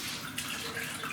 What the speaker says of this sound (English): We're going to pour it in a double boiler.